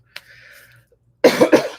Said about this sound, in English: Yes, still have a little bit of that cough with me,